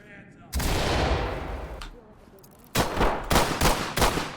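Gunfire in the tactical shooter game Ready or Not, with a loud sustained burst followed after a pause by a rapid string of sharp close shots.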